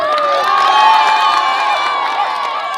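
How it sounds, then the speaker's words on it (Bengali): A crowd at a local football final cheers loudly for the champion team, a sustained roar of many voices with whoops and higher shouts rising together, close and continuous. "3 cheers for Siliguri Real Madrid, hip hip"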